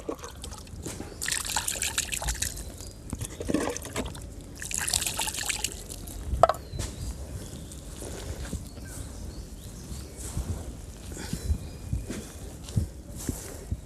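Water is poured and worked by hand into a wet compost mix of mustard cake, vegetable peels and cow dung, giving close, uneven trickling, sloshing and squelching sounds throughout.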